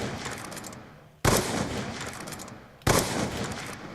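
Two loud sniper rifle shots from the Black Ops 2 video game, each a sharp crack about 1.6 seconds apart, with a long reverberant tail decaying after each blast and no talking.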